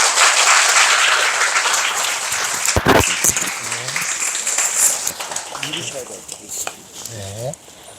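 Audience at an education seminar applauds to welcome a speaker: steady clapping fades after a few seconds, giving way to someone talking over the dwindling claps.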